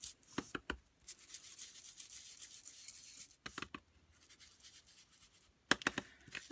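A sponging tool dabs dark chocolate ink onto a paper die cut in quiet, scratchy bursts, with short brisk pats separated by softer rubbing and brief pauses.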